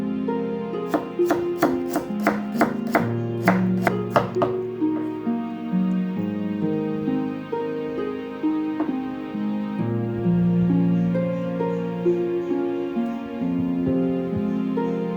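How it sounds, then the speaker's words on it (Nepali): A medium-sized onion being chopped finely with a knife, a quick run of sharp, close strikes on a board early on over background music, which then carries on alone. "प्याजलाई चाहिँ हामीले मसिनो हुने गरेर काट्नु पर्दछ"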